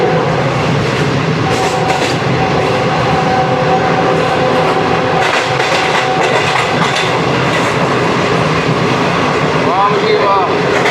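The Shalimar Express passes Badami Bagh railway station in Pakistan with a loud, continuous rumble and rhythmic clickety-clack of wheels on rails, heard from close by, with a voice talking over it.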